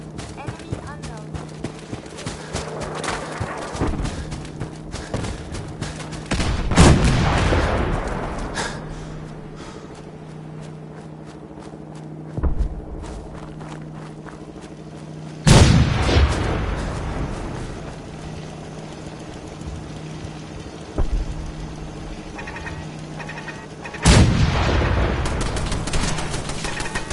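Gunfire in the video game Fallout 4: three heavy, booming shots or blasts spaced several seconds apart, each ringing out and fading over a steady low background rumble.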